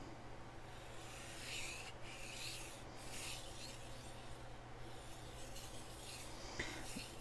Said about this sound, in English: I'll do a couple strokes on that side to possibly remove the burr